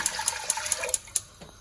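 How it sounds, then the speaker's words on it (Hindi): About four cups of water pour into a cooking pot for hareesa, a steady splashing stream with sharp drip-like clinks, fairly close, with no talking. "तो हम उसमें डालेंगे तकरीबन 4 कप पानी"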